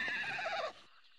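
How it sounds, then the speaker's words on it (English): A short horse neigh in a video game, a single quavering whinny lasting under a second, fairly faint and heard alone before cutting off to near silence. "Makes a horse noise, has to be horse."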